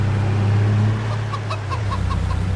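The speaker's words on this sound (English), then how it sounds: "And chickens here, there's already a few chickens." Chickens cluck in short repeated bursts on a farm in Farming Simulator 22, heard over a steady low engine hum.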